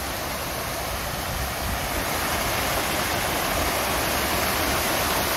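Cold spring water gushes under strong pressure from a small pool at the Tezontepec springs in Hidalgo, Mexico, a loud, steady, broadband rushing roar close by, unbroken throughout with no voices.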